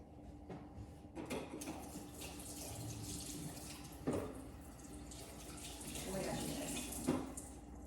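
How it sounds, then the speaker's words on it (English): Hands washed under a running kitchen tap: steady water flow with splashes and a couple of louder clunks near the sink, heard at moderate level with no speech over it. "Let me wash my hands."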